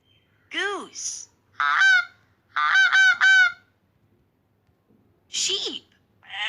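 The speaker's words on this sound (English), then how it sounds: "Goose." A goose honks loudly nearby in a quick series of three or four harsh, nasal calls. Short spoken words come before and after the honks.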